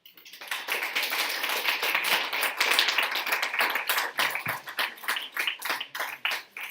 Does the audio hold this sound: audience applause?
yes